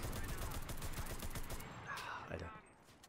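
MP34 submachine gun fire in the video game Enlisted comes as fast, dense bursts of rapid shots, loud and close, thinning out into a few scattered reports at the end.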